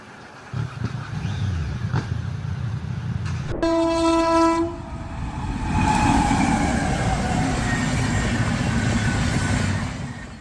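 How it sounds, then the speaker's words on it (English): A train passes close by with a loud rumble of rolling wagons, and a sharp horn blast cuts through midway. No voices are heard. "These people aren't just waiting for the train to pass."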